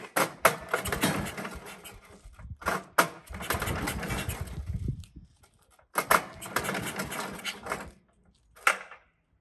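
An old Dennis with new fuel lines cranks over repeatedly in bursts, the starter churning loudly and close for a few seconds each time with short pauses between attempts, never settling into a steady idle.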